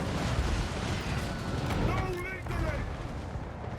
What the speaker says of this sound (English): I've got my artillery opening fire on their unbreakable Hell Cannons